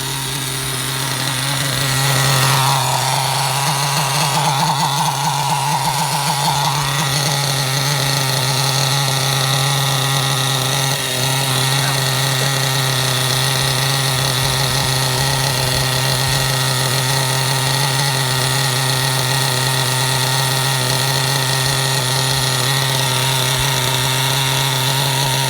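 A Reeley Overheater 1/8 nitro RC truggy engine screams in a high, buzzy idle right up close, briefly revving early on, then holding a steady piercing whine throughout with no voices.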